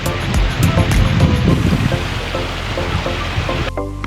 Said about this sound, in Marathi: एकदम रे वारा सुटला आहे